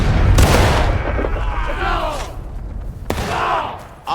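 Infantry musket volleys ring out in the Civil War video game War of Rights, loud booming shots at the start and again near the end with battlefield noise between them.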